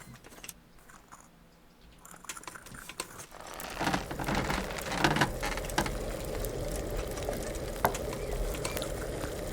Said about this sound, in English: Drop in the sage and boil for 1 turn.